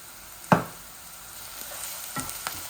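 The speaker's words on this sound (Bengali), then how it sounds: "আমার পেঁয়াজটা একটু লাল লাল হয়ে যাক" Onions frying in a pan with oil, ahead of a Bangladeshi pabda fish and tomato dish, make a low sizzle with a sharp stirring scrape near the start and a few softer scrapes later.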